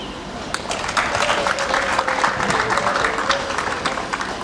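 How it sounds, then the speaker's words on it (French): Applause from a crowd at a formal ceremony, sustained and dense clapping held steady for the whole stretch, fairly loud and near, with no speech over it. "ils méritent nos applaudissements"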